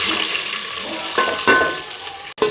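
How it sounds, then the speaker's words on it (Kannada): Onions and green chillies are stirred into hot frying oil for kushka, giving a steady close sizzle with a few scraping stirs and clanks of the pan, and no voice. "ಈ ಥರ ಈರುಳ್ಳಿ ಹಸಿಮೆಣಸಿನ್ಕಾಯಿ ಹಾಕಿ ಕಲಿಸ್ಕೊಬೇಕು"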